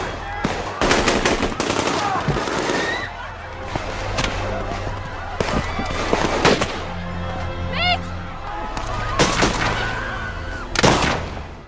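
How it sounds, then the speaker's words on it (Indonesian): Machine gun fire crackles in a film scene of terrorists shooting at people on a beach, with bursts of rapid shots near and loud, broken by gaps while narration talks over them. "sekelompok teroris yang dipimpin oleh Adnan datang ke pantai itu dan menembak semua orang yang ada di sana secara membabi buta"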